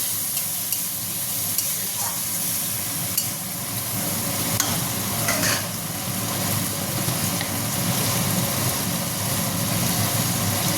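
Ginger and green chili paste is stirred into a vegetarian soybean dish with melted tomato in a hot pan, producing continuous sizzling and scraping under a low background hum.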